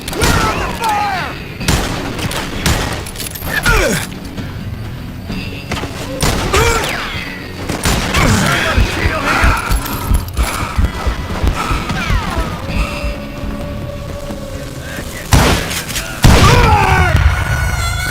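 Gunfire in the video game Call of Juarez: Gunslinger, repeated sharp shots and bursts with crashes and booms scattered throughout, loud, with voices shouting between the shots.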